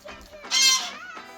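Ducks on a farm in Ecuador calling, a harsh honking, quacking burst in the middle, fairly close, with softer calls around it.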